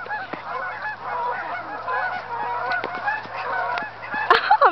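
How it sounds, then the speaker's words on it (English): A flock of geese honks loudly and continuously while being chased outdoors, with dense overlapping calls throughout and a sharper burst near the end. "go chase the geese"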